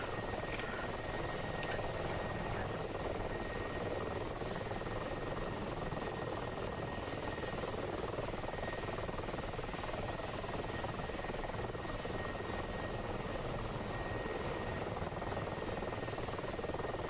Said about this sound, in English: We've got two pairs of Mi-24s flying together.